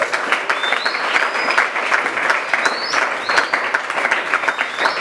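A church congregation at a Sunday service breaks into loud, sustained applause, a dense continuous patter of many hands clapping together with faint cheering voices mixed in.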